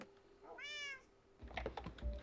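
A single clear cat meow rises and falls near the mic, followed by quick clattering keyboard typing at close range, all fairly quiet.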